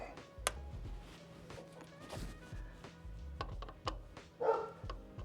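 A dog barks a few times at a distance with short, sharp yaps, loudest early on, while a technician services the condenser of an 18 SEER Ruud inverter HVAC unit over a low hum.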